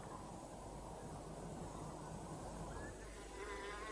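Bees buzz in a steady, faint drone that continues unbroken with a soft background hum.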